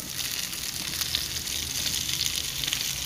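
Tomatoes hit a hot frying pan and sizzle loudly and steadily up close, a dense crackling hiss with light stirring underneath and no voices.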